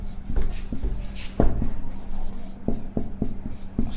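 Pen or chalk scratches across a surface during a geometry lesson on rhombus diagonals, with quick strokes and taps in an uneven rhythm, close and fairly loud, with no talking.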